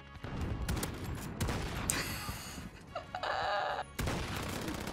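MK2 Carbine fire in Call of Duty: Modern Warfare, with sharp single shots cracking in bursts against a busy game soundscape. Louder, denser stretches of firing and other game effects come in the middle and again near the end.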